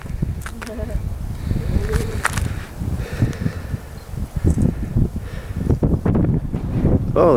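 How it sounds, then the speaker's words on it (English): Strong wind gusting over Huckleberry Point in the Catskill Mountains, buffeting the microphone with rumbling, uneven blasts that rise and fall throughout, close and loud, with brief exclamations from people nearby. "The wind hits you"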